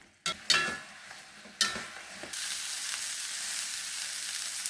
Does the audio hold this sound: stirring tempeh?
yes